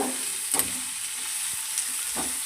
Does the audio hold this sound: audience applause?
no